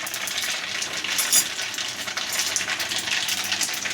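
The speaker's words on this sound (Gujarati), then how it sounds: "તેલ રાઈ જીરું નાખી દીધું છે" Hot oil sizzling steadily in a pan with mustard seeds and cumin, a dense continuous crackle with small pops, close and fairly loud, alone with no talking.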